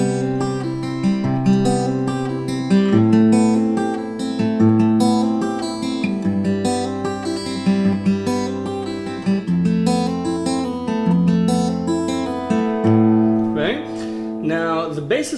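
Clean guitar plays a continuous fingerstyle arpeggio pattern, notes flowing and overlapping steadily, ending with a few brighter plucked accents.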